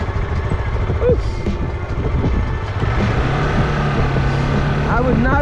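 A motorcycle rides a rough trail near Lares, Peru, its engine droning steadily close by with a rising pitch toward the end, mixed with wind noise and a voice talking over it.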